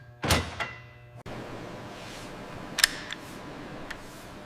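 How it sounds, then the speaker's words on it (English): The heavy bolt of an M240 machine gun slides home under a powerful return spring, giving a sharp metallic clack followed by a dull thud and then a few lighter clicks against a quiet, hissy background. "The heart of the gun slides home. A powerful spring returns the heavy bolt."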